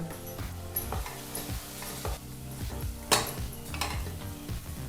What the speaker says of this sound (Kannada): ಮಿಕ್ಸಿ ಜಾರಲ್ಲಿ ರುಬ್ಬಿದಂಥ ಮಸಾಲ ಪೇಸ್ಟನ್ನು ಹಾಕಿ ಏನಿಲ್ಲ ಅಂದರೂ ಮೂರರಿಂದ ನಾಲ್ಕು ನಿಮಿಷ ಹಸಿ ವಾಸನೆ ಹೋಗೋವರೆಗೂ ಈ ಮಸಾಲ ಪೇಸ್ಟನ್ನು ಫ್ರೈ ಮಾಡ್ಕೋಬೇಕಾಗತ್ತೆ